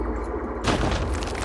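Sudden loud blast of a concealed grenade in Phoenix Point, a sharp broadband burst after a quiet moment that rumbles and crackles briefly, with no voices.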